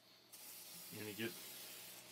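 One Shot case lube is sprayed onto cartridge cases for handloading 6.8 SPC, giving a short, faint hissing spritz with a brief puff of louder spray near the middle in a quiet setting.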